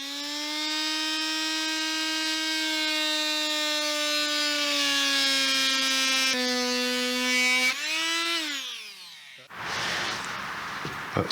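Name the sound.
saw blade plunge cutting through porch floorboard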